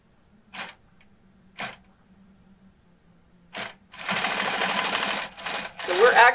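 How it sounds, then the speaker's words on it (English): A longarm quilting machine stitches through vinyl in short bursts, a couple of brief mechanical whirs followed by a longer sustained run of rapid needle clatter near the end, with a person speaking in between. "Let's let it stitch."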